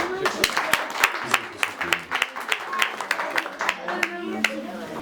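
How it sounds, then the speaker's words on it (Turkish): An audience at a cultural association gathering claps in a lively round of applause, with crisp individual claps standing out close by and a few voices mixed in. "Güzel bir alkış alalım."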